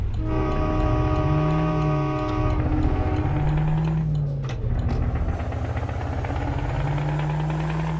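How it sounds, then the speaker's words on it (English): A Scania 730S with a V8 engine in Euro Truck Simulator 2, its deep engine droning and rising in pitch through repeated gear pulls as it accelerates away, loud and steady, with a brief air-brake hiss midway and no talk. "Just listen to that engine shine"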